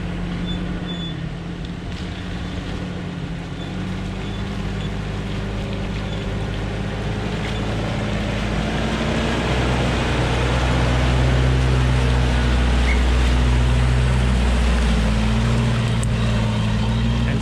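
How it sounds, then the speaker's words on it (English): A Toyota Hilux 4x4 with larger tyres driving off-road, its engine running in a steady low drone that builds in load and volume as it pulls away, close by. "Zach's gonna have a go in his Hilux"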